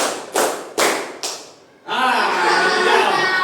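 A group claps a four-beat pattern in a classroom or lesson: four sharp, evenly spaced claps close by, then a steady mix of voices and room noise.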